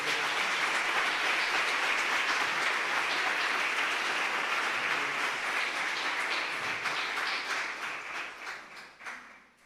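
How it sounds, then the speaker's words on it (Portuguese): A church congregation applauding together, dense sustained clapping that holds steady and then thins and fades out toward the end. "Você pode dar um aplauso ao Senhor?"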